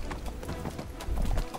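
Horse hooves clip-clopping in the fantasy role-playing game Neverwinter, a close, steady rhythm of hoofbeats that grows slightly louder toward the end.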